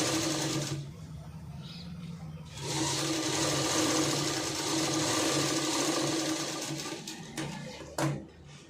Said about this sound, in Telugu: ఇలా మనము సెకండ్ డాట్ కూడా కుట్టేసుకోవాలి.